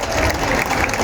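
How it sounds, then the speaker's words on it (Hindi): Audience at a Bharatiya Janata Party political rally applauding to welcome a speaker, a brief, loud burst of dense clapping from many hands, steady and crowded with no talk over it. "भारती दीदी के लिए जोरदार तालियां बजाकर भारती दीदी का स्वागत करें"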